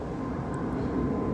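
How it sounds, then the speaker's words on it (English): Airplane passing overhead outdoors, a steady low rumbling drone that holds evenly through the short stretch without voices on top. "Sorry about the plane."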